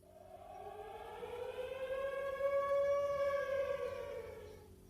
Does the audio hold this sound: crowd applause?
no